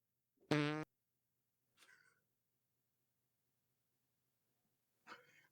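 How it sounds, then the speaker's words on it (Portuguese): A single loud, short fart bursts out near the start, followed by a couple of faint, brief rustling noises in an otherwise quiet room. "peidar na gravação"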